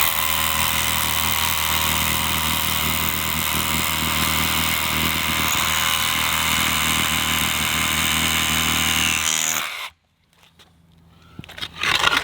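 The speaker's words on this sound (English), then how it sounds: "now we're going to see how it works going into 8 inches of concrete" Ridgid Octane brushless 18V SDS-Plus rotary hammer, model R86711B, drilling into 8 inches of concrete, a loud steady hammering drone held close for about nine seconds before cutting off abruptly into near silence.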